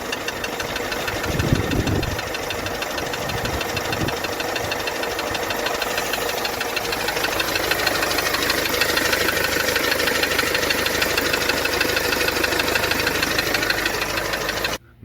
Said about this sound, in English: Knocking noise, especially in Mercedes, the lifters start give noise